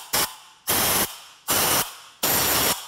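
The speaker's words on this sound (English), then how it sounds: "Now I'm just going to take some compressed air and just spray down in the spark plug holes." Four loud, hissing bursts of compressed air sprayed into the spark plug holes of a 2011-2015 Chevy Cruze, each lasting about half a second, separated by short pauses, close by.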